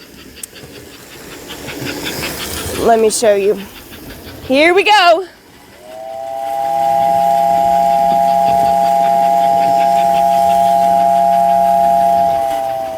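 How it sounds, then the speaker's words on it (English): A 1955 American Flyer toy steam train sounds its whistle, a steady, sustained two-toned hoot lasting about six seconds, following brief close talk and hissing. "let's try out the whistle"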